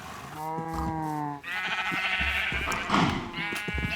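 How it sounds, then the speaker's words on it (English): Minecraft sheep bleat in quick succession, several wavering baa calls close by and fairly loud, overlapping one another. "Full complement of sheep."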